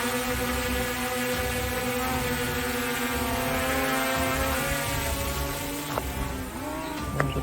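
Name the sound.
drone propellers flying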